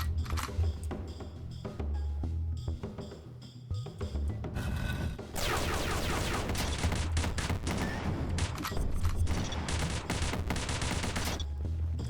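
A full-auto gun in the video game Dungreed fires rapid, dense bursts of electronic shots. Sparse shots come first, then a continuous loud barrage takes over from about the middle until the end.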